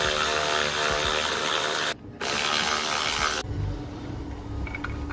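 A ratchet spins loose the shock absorber nuts on a 2004 BMW 320D during a front coil spring replacement, giving rapid close clicking bursts with a brief pause, then a softer mechanical clatter.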